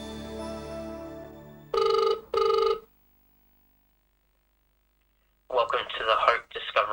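A telephone rings twice in short bursts on a call to an offer line, following a stretch of music, then a pause of silence before a voice answers.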